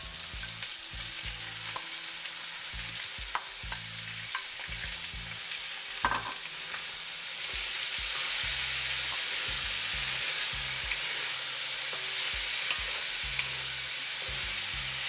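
Potatoes and peas fry in oil in an Indian kadai for homemade mixed vegetables, producing a steady, dense sizzle throughout. Intermittent stirring adds low scraping and knocks, and the sizzle grows slightly louder toward the end.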